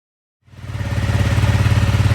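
A stock Honda CRF300L dual-sport motorcycle with its factory exhaust starts up and settles into a steady, pulsing idle, loud and close, with no talking.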